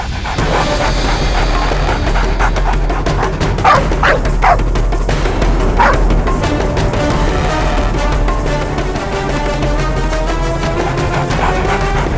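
Dog barks and yips over a steady low rumble, loud and continuous for about twelve seconds, with a few sharper yelps rising near the middle; the setting is a crime drama scene near a parked car.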